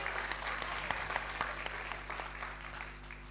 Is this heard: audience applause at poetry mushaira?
yes